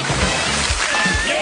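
Water sloshes and splashes in a short, churning burst, close and fairly loud.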